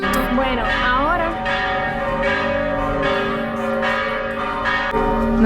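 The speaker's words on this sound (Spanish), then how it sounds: "no sé si me deja hablar las campanadas." Church bells peal in repeated, overlapping strikes with long ringing tails, loud and steady throughout, heard outdoors in an early-morning town with no talk over them.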